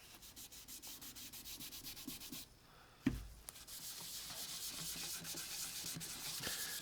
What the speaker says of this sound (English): What's great about sanding some of this back